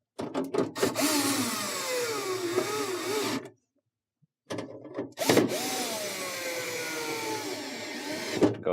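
Ratchet driving screws into a Whirlpool refrigerator's evaporator fan motor mount, heard as rapid close clicking in two runs separated by a short silent gap.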